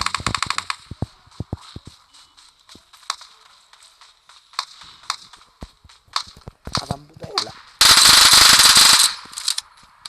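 Sharp gunshots in a video game shooter, first in quick irregular bursts, then scattered single shots with gaps, followed by a loud dense burst of automatic fire near the end.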